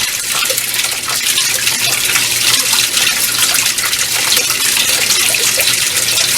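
Hot water gushing hard from an outlet fed by a tankless water heater, a loud, steady, unbroken rush of flowing water heard up close with no pauses.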